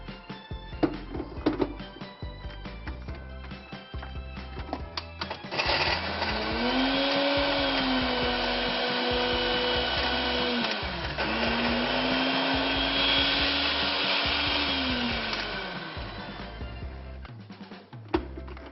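A blender crushing biscuits whirs loudly and steadily for about ten seconds, its motor pitch dipping briefly midway, with quieter clattering before and after.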